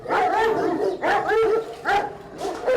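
Aspin (Filipino mongrel) dogs bark and yip in three loud, close bursts, with whiny, excited tones between barks, reacting to a new dog.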